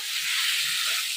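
Fried potatoes and pointed gourd go into hot spiced oil in a traditional Bengali village kitchen, setting off a loud, dense, continuous sizzle throughout.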